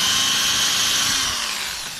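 A power drill with a bit bores into wood while building a wooden sewing box, a close, high whirring grind that holds steady and then eases slightly as it ends.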